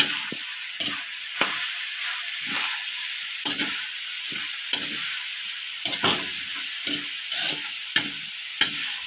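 Sinantulan, a grated coconut dish, is stirred in a hot pan, producing repeated sharp scraping strokes at an uneven pace over a light steady sizzle, up close with no speech.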